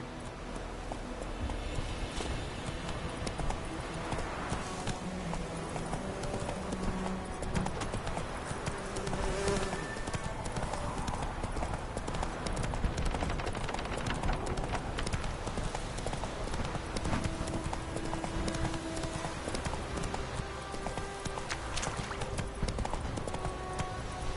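Hooves of the horse Roach clip-clopping at a steady walking rhythm in The Witcher 3 game, continuous and fairly close, with occasional ambient game sounds underneath.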